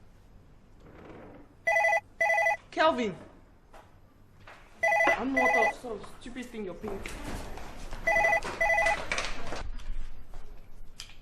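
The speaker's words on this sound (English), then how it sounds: "you hear the phone ringing?" A household telephone bell rings in repeated short bursts, with three clear double rings spaced through the scene, sounding over and between people talking and arguing indoors.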